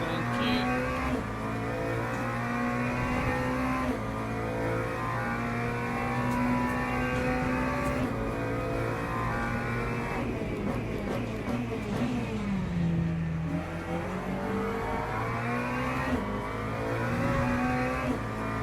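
Engines of BMW and Ferrari race cars in the Le Mans Ultimate racing game drone loudly and steadily, rising and falling in pitch through gear changes and a braking dip, close up with no voices.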